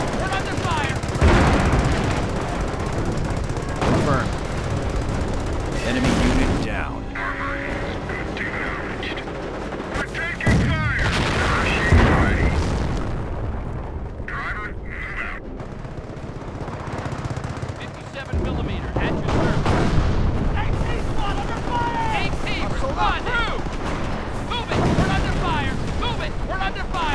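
Dense World War II battle gunfire in the strategy game Company of Heroes: continuous machine-gun bursts, rifle shots and heavy artillery booms overlap throughout, loud and chaotic, with unit voice lines heard intermittently in the mix.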